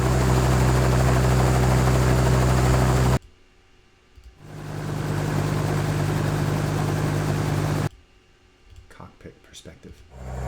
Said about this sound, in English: Helicopter idle blade.